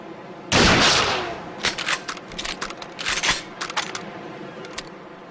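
A gunshot rings out in the game Perfect Dark Zero, one loud, sharp blast that decays into a ringing tail, followed by a run of lighter clattering and mechanical clicks, close and without any voices.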